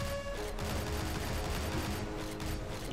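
Gunfire rattles on without a break in the video game Shank 2, a dense burst of rapid automatic shots mixed with mechanical clatter, loud and close against a busy game background.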